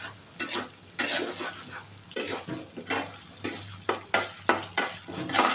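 Ginger and onion fry in a pan for a cabbage and tangra fish dish, with repeated rhythmic scraping strokes of a spatula over a steady close sizzle, loud and without talk.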